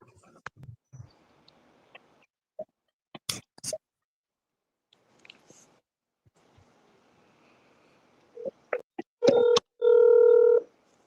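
A telephone on a prank call gives a few faint clicks and key taps, then a short burst of touch-tone dial beeps and a loud, steady ringback tone near the end, with quiet background hiss throughout.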